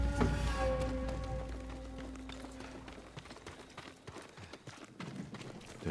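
Horse hooves clip-clop in the video game Ghost of Tsushima, a run of close, irregular taps fading in and out, following a tonal game sound that dies away.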